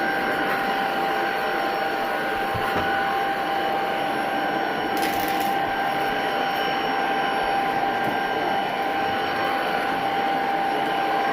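A Tocmoc T230 cordless stick vacuum runs continuously while picking up household dirt, a steady close whining roar with a constant tone and only slight shifts in pitch.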